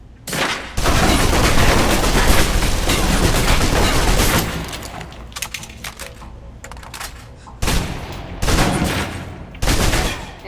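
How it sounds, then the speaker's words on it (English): A submachine gun empties a full magazine in the Alpha Protocol video game, one loud sustained burst of rapid automatic fire, then a few shorter bursts after brief pauses. "Now, let's move on to the submachine gun. Now let's empty the clip."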